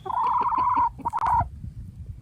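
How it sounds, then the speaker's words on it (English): A hen gives a quiet, discreet warning screech, a thin high-pitched sustained cry broken into two drawn-out calls with a short gap between, close by and alone over faint background. "she is likely to emit the much quieter, more discreet screech sound"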